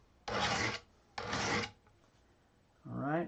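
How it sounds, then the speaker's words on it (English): A steel blade is sharpened on an abrasive grit stone outdoors, giving three loud, close rasping strokes, each about half a second long, with short quiet gaps between them. "this particular grit is really starting to wear away at that steel."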